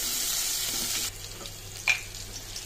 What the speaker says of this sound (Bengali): পেঁয়াজটা একটু ভাজা ভাজা হয়ে গিয়েছে